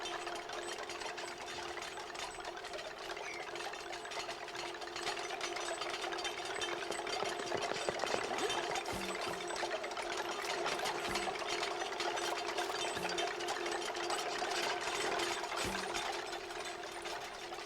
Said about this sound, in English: Ready to drill into some oxygen.